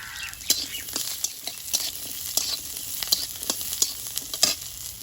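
Ginger, garlic and cashews frying in a little oil in a kadai on a new stove, with a steady quiet sizzle and soft scattered pops and crackles throughout, no voices.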